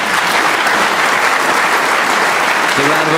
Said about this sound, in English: The round of applause from this knowledgeable Crucible audience tells you that Ronnie O'Sullivan has just passed the snooker's required stage now.